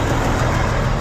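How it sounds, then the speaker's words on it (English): A tractor engine running close by, a loud steady low rumble with a constant throbbing drone and no voices over it. "which they got this tractor running this morning."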